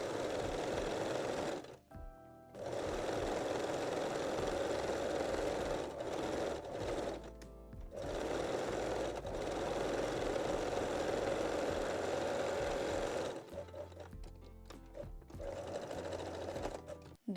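A domestic sewing machine runs a long straight stitch on a padding pocket in a bralette, its steady whirring motor continuous and close, broken by a few brief pauses and short stop-start bursts.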